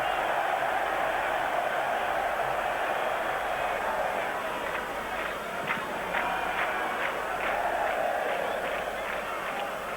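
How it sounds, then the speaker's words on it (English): An excitable football crowd fills Ramat Gan Stadium during an Israel versus France match, a dense, continuous roar of massed voices heard from a distance, with some rhythmic clapping drifting through. "Very excitable crowd in the Ramat Gan Stadium"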